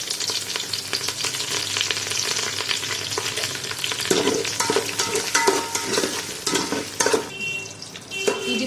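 Onions, green chillies and curry leaves fry in hot ghee and oil, a steady crackling sizzle close by, broken by stirring scrapes and clinks of a spoon against the pan.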